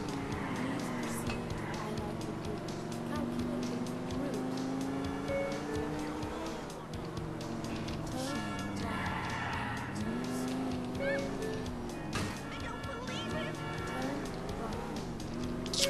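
A car drives in the GTA IV video game, its engine droning steadily and rising and falling in pitch throughout, with someone talking over it.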